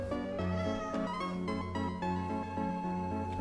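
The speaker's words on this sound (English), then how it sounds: "Cat!" Cat meowing in a drawn-out, tonal wail over steady background music, fairly quiet with no speech.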